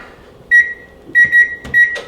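Kitchen oven timer beeping while enchiladas finish melting their cheese: three bursts of clear, high electronic beeps, the later bursts as double beeps, close and loud over a quiet kitchen background.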